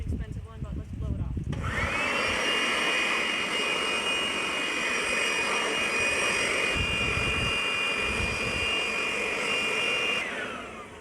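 A cheap secondhand yard-sale leaf blower, a Weed Eater, dries a car's engine bay after washing, its steady loud high-pitched engine whine rising after a brief start and holding near and continuous before cutting off.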